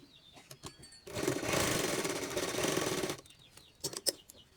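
An electric sewing machine stitches a blouse in one fast, steady two-second run. Quieter handling clicks come before and after it, and no one talks.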